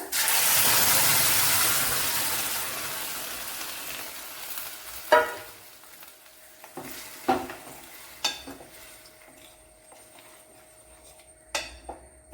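Ground paste poured over frying onions for a Kerala gooseberry dish: a loud hissing sizzle that slowly fades, followed by several separate clinks and scrapes as the pan is stirred.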